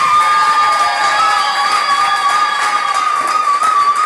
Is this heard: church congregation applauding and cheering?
yes